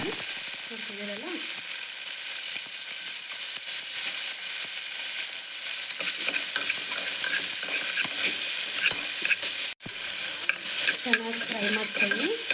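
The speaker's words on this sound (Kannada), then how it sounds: "ಚೆನ್ನಾಗಿ ಫ್ರೈ ಮಾಡ್ಕೊಳ್ಳಿ." Mixed vegetables and tomato fry in ghee for a vegetable pulao, giving a continuous close sizzle with repeated scraping stirs of a spoon against the pan, briefly cut off near the end.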